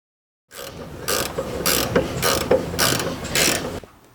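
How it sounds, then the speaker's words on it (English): Ratcheting clicks from tightening a bolt and fitting its lock nut on a boat tiller during a hydraulic steering installation, in five or six bursts of quick near clicking with no one talking. "we've got that bolt started, so we'll just run it down and put the lock nut on the bottom"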